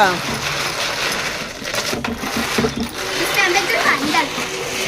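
Water splashes and pours steadily into a fish tank, with a continuous watery rush and small clinks throughout.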